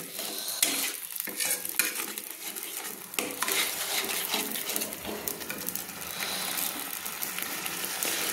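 Spice paste for a chang fish curry is stir-fried in oil, with a steady sizzle under repeated scraping and clinking of a spatula against the pan, close and continuous.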